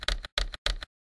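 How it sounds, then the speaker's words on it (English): Arrow keys on a computer keyboard are pressed three times in an even rhythm, each press giving a crisp, close-up clack with short silent gaps between them. "You press the arrow keys to move from cell to cell."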